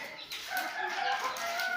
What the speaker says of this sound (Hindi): दोस्तों, ये मुर्गी है